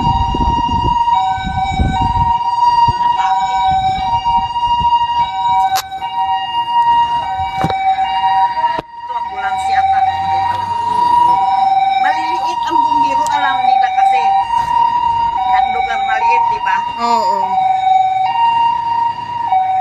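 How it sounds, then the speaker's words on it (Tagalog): Ambulance siren wailing near a fire in Diego Silang Village, Taguig City, loud and sustained with a steady two-tone pattern over traffic noise and people talking. "May ambulansya."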